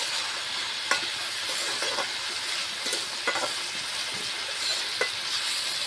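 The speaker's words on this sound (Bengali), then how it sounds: "সবজিটা ভালো করে কষিয়ে নেব ভাজাভাজি করে" Steady sizzling of vegetables frying in a pan, with occasional scraping taps of a spoon stirring, continuous and fairly close.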